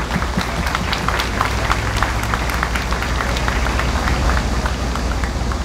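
Applause and crowd noise at a Korean resident doctors' nationwide strike rally, a dense steady wash of clapping and cheering from a large outdoor gathering, loud and continuous throughout.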